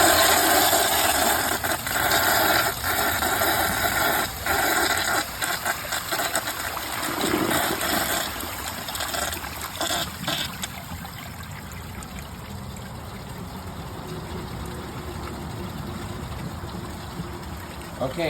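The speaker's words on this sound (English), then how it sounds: "I'm deciding that for this flush, I will give it a normal flush" A 2009 American Standard Gateway toilet on a mid-filled tank gives a normal flush, a steady loud rush of water that drains into gurgling before the tank refill carries on, alone and close by.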